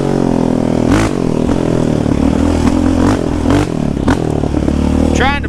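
A Raptor 700 ATV engine blips its throttle in short revs, with sharp rising bursts near the start and again toward the end, over steady loud engine rumble.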